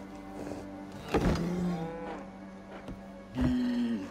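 A cow in the video game Assassin's Creed Origins gives two clear, drawn-out moos close by, one near the middle and one at the end, over a quiet background with no talk.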